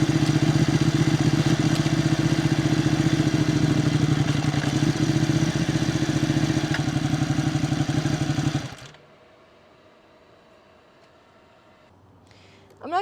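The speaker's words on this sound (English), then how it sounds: "the 899 doesn't sound very good at idle" A Ducati 899 Panigale engine idles close by with a loud, rough, clattery mechanical rumble and steady fast pulses, then cuts off abruptly into near silence.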